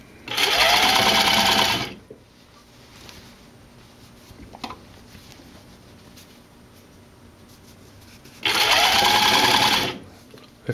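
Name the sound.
sewing machine stitching tank top binding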